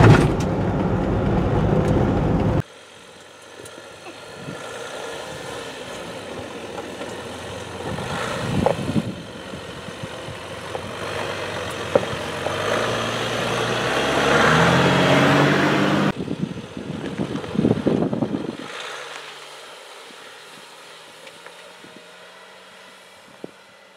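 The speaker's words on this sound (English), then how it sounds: "On these rough dirt roads, the Jeep is always a vehicle that's going to bounce around quite a bit" A 2020 Jeep Wrangler Rubicon diesel drives over a rough dirt road, with steady road and engine rumble, bumps and rattles rising and falling, a brief loud section near the start, then quieter cabin noise later.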